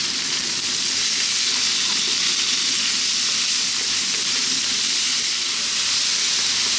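Thin chicken strips stir-fry over maximum heat in a hot pan, a steady, close, loud sizzle and hiss with faint scraping as the pieces are tossed, no voices.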